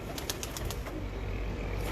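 Pigeons on a rooftop give soft, low coos, with a few faint fluttering bursts near the start, set against steady outdoor rumble.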